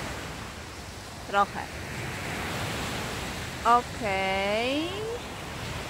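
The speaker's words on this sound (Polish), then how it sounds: "Nad morzem zagłuszają mnie fale." Steady broadband wash of sea waves on a shore runs through the whole stretch, with a voice speaking briefly over the surf a couple of times.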